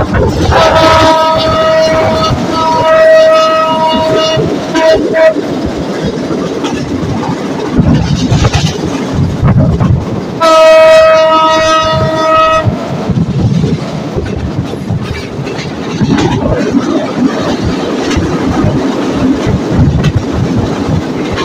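A train runs in the morning after an overnight journey, a loud steady rumble and rattle of wheels on track throughout, with repeated clattering passages and ringing tonal squeals, and some voices faintly underneath.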